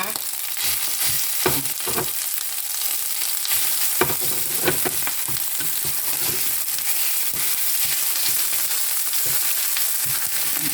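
Meatballs stir-fried in a pan with dried and fresh red bird's eye chilies, a loud continuous sizzle broken by repeated scraping and knocking strokes of a spatula, close throughout.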